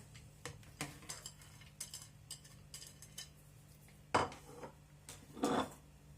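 Egg, garlic and onion being mixed in a bowl for chicken cutlets, with scattered clinks and scrapes of a utensil against the bowl and two louder knocks near the end.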